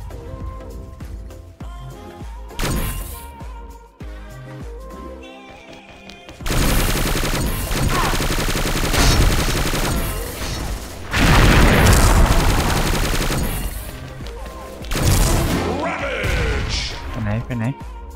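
Gunfire in the online shooter XSHOT, with sustained loud rapid bursts and booms filling the middle and later stretches, and someone talking over the opening and between volleys.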